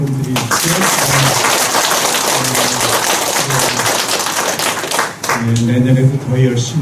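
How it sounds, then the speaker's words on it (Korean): Audience applause for library staff at a December humanities academy event in a Korean library, a steady crackling patter of clapping running throughout, with a speaker's voice talking over it. "우리 감사의 박수 한번 드리시고"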